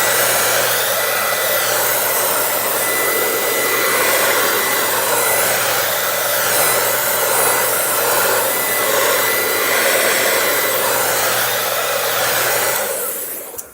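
A hair dryer blows steadily on a craft project, a loud continuous close whoosh with a low hum that runs unbroken until it cuts off at the very end.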